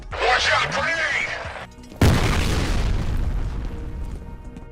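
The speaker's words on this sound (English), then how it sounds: "Watch out, grenade!" Gunfire and combat noise in the video game F.E.A.R. crackle loudly before a sudden, powerful grenade explosion bursts up close, its rumbling tail fading over the next few seconds.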